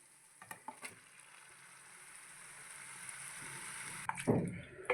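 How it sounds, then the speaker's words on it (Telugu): Marinated country chicken drops into masala already frying in a pan, and a quiet steady sizzle swells into a louder burst of crackling and stirring at the end. "ఇప్పుడైతే మనం ముందుగా మ్యారినేట్ చేసి పెట్టుకున్నటువంటి నాటుకోడి కూర అయితే యాడ్ చేసేసుకుందాము."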